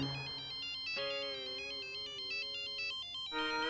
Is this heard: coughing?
no